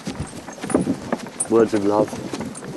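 Horse hooves clip-clop at a slow ridden pace on a Victorian-style farm in winter, close by and partly under a man's speech.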